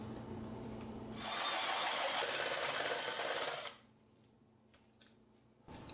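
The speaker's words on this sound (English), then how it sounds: "And now we're gonna make 1-inch hole" A drill bores a 1-inch hole in a part for a DIY portable air conditioner, a loud hissing whir lasting about two and a half seconds before it cuts off into quiet room noise.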